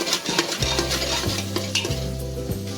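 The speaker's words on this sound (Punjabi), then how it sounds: "ਗਰਮ ਮਸਾਲਾ ਮਿਕਸ ਕਰਦੇ ਆ ਜੀ" Garam masala being stirred into a Punjabi-style matar (green pea) curry in a pan, with a spoon scraping and sloshing through the thick gravy in steady repeated strokes over a faint sizzle, close and moderately loud, no talking.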